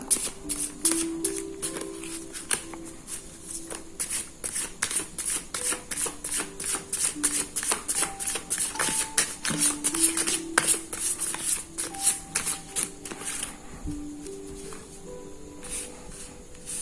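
Tarot cards are shuffled and handled in a rapid series of crisp flicks and snaps, then slapped down one by one as five cards are laid out. The cards sound close and clear, with small pauses between bursts.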